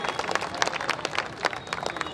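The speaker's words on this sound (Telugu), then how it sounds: "చిన్నారులకు గట్టిగా చప్పట్లతో అభినందిద్దామండి" An audience claps for children at a Sanskar Bharati cultural program held for a Ganesh idol immersion in the city: dense, steady applause with many overlapping claps across the whole stretch, fairly near.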